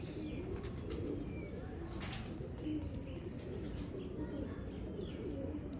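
Game breed pigeons, bred from a cross of Misse and Lal Pari birds, coo softly and repeatedly in a loft, with faint chirps and a little wing movement over a steady background hum.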